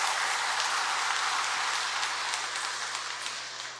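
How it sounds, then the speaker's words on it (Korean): Congregation applauding during a Sunday Mass in a church, a dense, steady wash of many hands clapping that fills the space and tapers slightly at the end, with no voices over it. "여러분 박수 한번 보내주시기 바랍니다."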